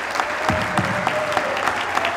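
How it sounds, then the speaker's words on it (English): An audience applauds a union leader at a labor event, a dense, steady round of many hands clapping at moderate loudness with a few sharper individual claps, and a faint voice or tone underneath. "give a big round of applause to a great union leader"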